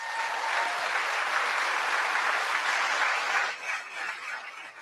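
An audience claps during a political speech about clean energy and electric vehicles, a dense, sustained wash of applause that holds steady before thinning out toward the end.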